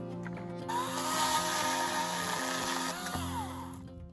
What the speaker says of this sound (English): cut some firewood with our electric chainsaw